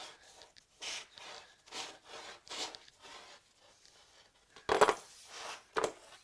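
A hand file rasps across an aluminium stair rod bar to cut a slight bevel, a series of short, rhythmic scraping strokes up close, ending with a couple of sharper metallic clinks.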